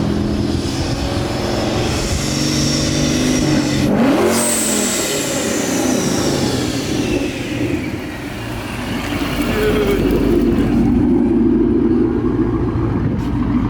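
A Paxton-supercharged S197 Ford Mustang engine revs loudly and close, a dense roaring drone that swells, dips briefly, then climbs again, with faint voices barely present underneath.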